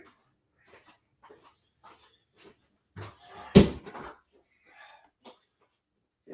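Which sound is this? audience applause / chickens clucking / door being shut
door being shut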